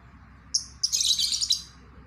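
A single-housed male lovebird gives a few sharp, high chirps, one brief call followed by a longer trilling burst and a final clipped note, close and clear over quiet background hiss.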